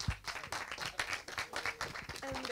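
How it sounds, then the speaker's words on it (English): Audience applause at the close of a talk, a brief, fairly quiet round of scattered clapping from a small gathering, with faint background sounds near the end. "One more round of applause."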